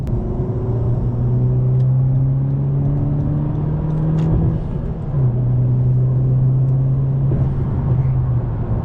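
A 2020 Honda Civic Si engine drones steadily at close range in sport mode, pitch shifting as it shifts through gears and pulls along, with no talking.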